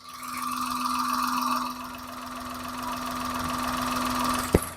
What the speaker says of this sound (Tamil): நான் இன்ஜின் நாய்ஸுமே இப்போ காமிக்கிறேன்